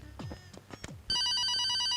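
A telephone rings with a loud, bright electronic trill that cuts in abruptly and sounds steadily after a few brief sounds.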